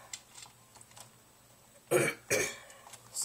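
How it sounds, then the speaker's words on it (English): A person coughs twice in sharp, close bursts after a quiet stretch of small handling noises while taking apart an Xbox 360 controller. "Sorry about me coughing, guys."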